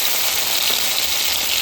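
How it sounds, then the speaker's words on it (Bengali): Ginger paste and white cumin paste hit hot ghee for a mixed-vegetable labra, giving a loud, even, continuous hiss of frying, close up and unbroken for the whole short moment. "ফোড়নটা আমি শুধু ঘিয়েই দেব। দিয়ে দেব আদা বাটা, দিয়ে দেব সাদা জিরা বাটা।"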